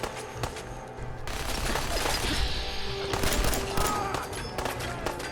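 Rapid, dense bursts of minigun fire in Fallout 4 crackle and rattle continuously at moderate loudness, mixed with impacts and other game noise.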